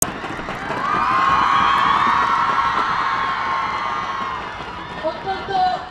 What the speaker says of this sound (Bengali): আবারও করতালি হবে, আরো জোরে করতালি এবং চিৎকার হবে